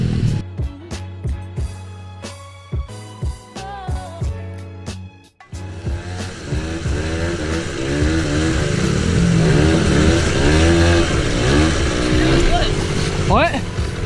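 A pit bike engine, one with a newer tire, starts up partway through and runs loud and close, its pitch rising and falling as it is revved repeatedly after a brief quiet gap.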